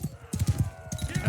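Horse hooves clop at a quick, steady trot in a fantasy video game, with close, even rhythmic beats over a low background drone.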